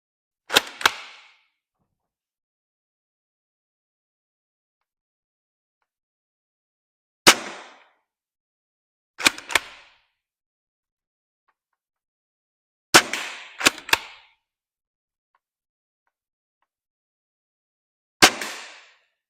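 A Nexus Pro X foam dart blaster fires darts as sharp, close pops, some alone and some in quick pairs or triplets, separated by long stretches of silence.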